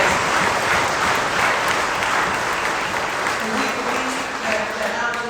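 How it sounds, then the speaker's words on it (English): Dense, steady applause from a large crowd greeting the announcement of Philadelphia's new police commissioner, loud and sustained throughout with voices faintly mixed in underneath. "a round of applause"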